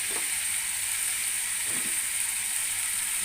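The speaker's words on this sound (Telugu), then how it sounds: "పిండి ఇలా వేగిన తర్వాత 2 కప్పులు చింతచిగురు వేస్తున్నాను చూడండి." A hot pan with cooked tomato and fried flour sizzles steadily as tender tamarind leaves go in, a constant loud frying hiss with faint stirring scrapes and no speech.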